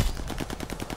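Rapid automatic fire from a Thompson M1928 submachine gun in Call of Duty: Vanguard, a steady burst of close, evenly spaced shots running the whole second without a break.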